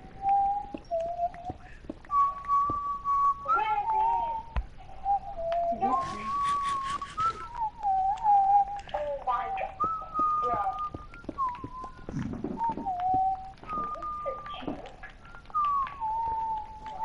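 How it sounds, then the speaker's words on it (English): A person whistles a wandering tune of sustained notes with pitch slides and pauses, fairly close, with other sounds and occasional talk mixed in. "What are you whistling in there?"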